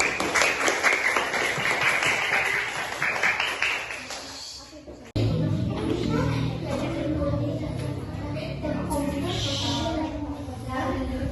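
An elementary school class claps for a correct answer, a dense burst of children's applause that stops abruptly midway, followed by classroom chatter and voices.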